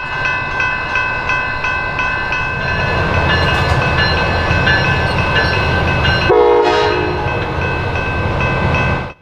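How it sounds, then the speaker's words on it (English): An Amtrak passenger train, number 352, rumbles up nearby and slows to stop at a broken railroad crossing, its loud horn sounding in repeated blasts, with a brief burst of brake hiss near the end. "352 pulls up to the crossing and stops so the conductor can protect the intersection"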